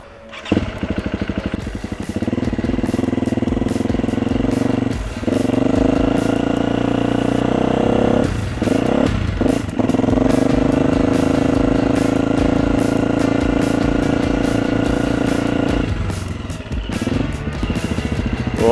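An enduro motorcycle ridden by a beginner, its engine revving and pulling loud and close through gear changes, with brief drops and throttle blips between steady runs, no speech.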